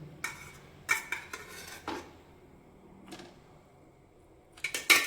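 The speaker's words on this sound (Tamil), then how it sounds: "இப்போ வந்து நம்ம சிக்கனை சேர்க்க வேண்டியதான்." Chicken pieces for butter chicken go into a hot, heavy kadai, making a few sharp metallic clinks and clatters in quick clusters, separated by short quiet gaps.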